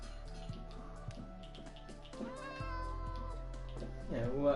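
In a Minecraft game a cat gives plaintive meows, the clearest rising near the end, set against steady game ambience and gentle background music while someone speaks quietly.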